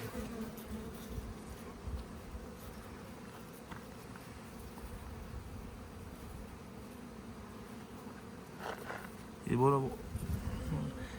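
Steady low buzzing of a young bee, close by, with a brief louder burst of harmonic buzz near the end.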